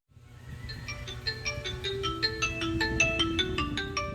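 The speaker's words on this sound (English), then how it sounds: "you can pretty much find it and it will play a sound to find your phone" A Xiaomi Smart Band 9 Active find-phone alert plays on the phone: a repeating electronic melody of bright chiming tones, looping steadily over a low background hum.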